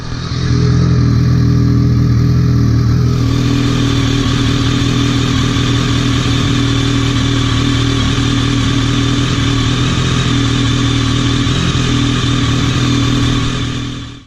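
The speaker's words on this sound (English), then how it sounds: "we'll run the bike a little bit, let that go down, cycle through the engine" BMW K1300S motorcycle engine idling steadily after an oil change, a loud, close, even drone with a constant tonal hum that holds for the full stretch without revving, no voices.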